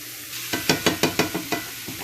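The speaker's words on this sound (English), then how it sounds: "I'd like to see you sauteing these vegetables for right about 15 minutes" Vegetables sautéing in a pan for a from-scratch chicken fricassee, a soft frying sizzle broken by about eight rhythmic scraping stirs of a utensil in quick succession, close and alone.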